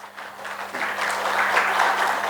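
Applause from a church congregation during a Sunday morning worship service, steady clapping that builds and swells to a full, continuous round with a low hum beneath.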